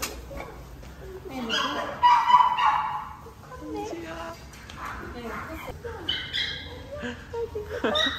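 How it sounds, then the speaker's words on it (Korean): A family's new puppy whimpers and yips in short bursts at close range, with higher excited cries rising in the middle. "우리 집에 이제 동시라는 강아지가 어, 새로 가족이 되었어요."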